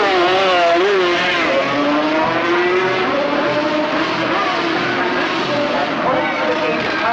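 Racing motorcycles, including Honda and Yamaha machines, scream past at the 1980 Isle of Man TT road race. The engines sound loud and close, with a continuous high whine whose pitch rises and falls as they accelerate.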